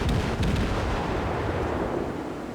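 Heavy naval guns firing in a ship combat video game, a dense run of booming blasts and rumbling reports in the first half that trails off into a sustained low roar.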